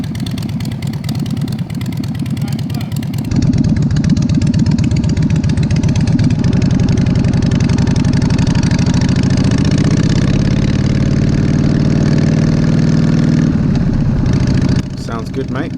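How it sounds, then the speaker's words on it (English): A custom Harley-Davidson Sportster with a 1200 5-speed engine and hardtail frame conversion idles close by, a loud steady lumpy rumble that runs throughout the clip. "This is a 1200 5-speed Sportster engine with a hardtail frame conversion."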